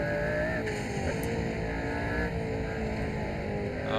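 Street car engine racing hard around the Nürburgring in the Assetto Corsa racing game, a continuous loud droning roar with steady revving that holds throughout, with no talk over it.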